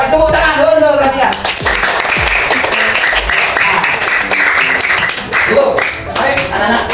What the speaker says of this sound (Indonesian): terus tepuk tangan dulu perhatikan